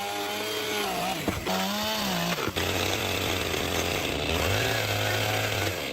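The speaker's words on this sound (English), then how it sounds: "extra round logs extending from the roof edge are being precisely cut off with a chainsaw" A chainsaw cuts off extra round logs jutting from the roof edge of a forest cabin, engine revving and bogging steadily and loudly up close, with brief pauses and pitch shifts as it bites through the wood.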